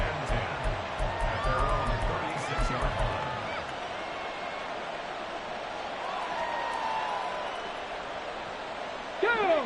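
Stadium crowd noise in an American football video game with New Orleans on offense, a steady distant roar with faint whoops, running beneath a commentator's voice and swelling slightly at the end.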